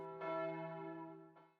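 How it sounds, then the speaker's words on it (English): The large church bells of Hallgrímskirkja in Reykjavík ring out with rich, sustained harmonic tones. A second strike comes near the end, and the sound is moderately faint and alone. "The three largest bells, Hallgrímur, Gudridur, and Steinunn, are named after the poet,"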